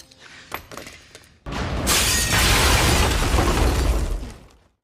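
A grenade goes off inside a house in a movie scene, a sudden loud blast followed by a long roar of shattering glass and debris that fades out after a few seconds; faint sounds come before the blast.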